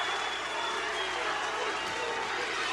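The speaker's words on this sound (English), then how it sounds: "Gets the crowd excited." Boxing arena crowd during the Oliver McCall vs Bruce Seldon bout, a steady broad roar of cheering and applause filling the space without pause, loud and continuous.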